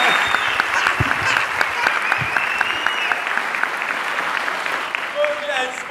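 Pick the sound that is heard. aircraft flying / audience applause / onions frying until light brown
audience applause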